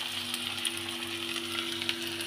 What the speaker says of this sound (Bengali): আলু পেঁয়াজটা একসাথে ভাজা ভাজাও হয়ে যায়